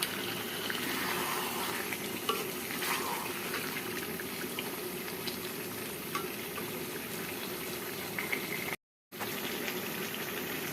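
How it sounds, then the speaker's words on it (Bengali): Chicken pieces stirred with spices in a cooking pot give a steady, close, wet sizzling and sloshing hiss that runs continuously with no talk, broken by a brief cut near the end. "খুব ভালো করে নাড়াচাড়া করে মশলার সাথে মিশাই দিলাম"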